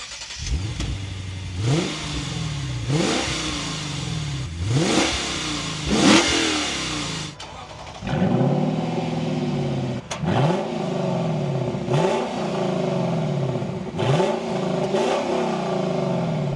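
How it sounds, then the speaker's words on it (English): Lexus LC500 and RC F Track Edition V8 engines rev repeatedly, each burst climbing sharply then dropping back to a rumbling idle, loud and close, with a brief pause between sets. "let's rev them up to see how they sound and compare between the V8s"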